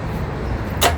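Stowable loading ramp pulled from its groove on the bed of a 2020 Ford F150, heard as a short metallic scrape near the end after a low steady background hum.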